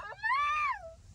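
Child imitating a cat's meow, a single drawn-out, rising-then-falling mew voiced near and fairly soft, alone over a faint low room hum.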